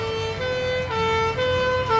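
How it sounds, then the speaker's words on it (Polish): A fire engine siren wails with a strong wavering tone, loud and sustained over the low rumble of the vehicle's engine, at a charity picnic in Kozarze, Poland. "Możemy w tym momencie usłyszeć syrenę strażacką"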